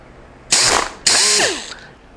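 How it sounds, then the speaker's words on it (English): A very high-powered grinder fitted with a foam conical brush works on an aluminum wheel, giving two sharp, loud whirring bursts that each spin up and then wind down. "to a foam conical brush and to a very high-powered grinder"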